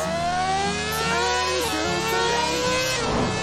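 Motorcycle engine in Traffic Rider revving hard, a loud, close, continuous high-pitched whine climbing and shifting through gears with no pauses.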